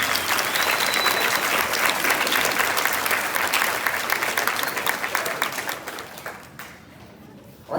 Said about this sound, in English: round of applause for Krimmel and the students